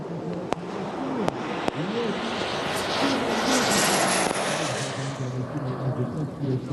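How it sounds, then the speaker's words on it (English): A model jet powered by a JetCat P120 turbine flies past at an airshow, a rising then fading turbine whine and rush over crowd murmur, with a few sharp clicks. "The model is powered by a JetCat P120 turbine"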